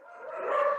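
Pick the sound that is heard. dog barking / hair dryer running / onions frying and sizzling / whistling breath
dog barking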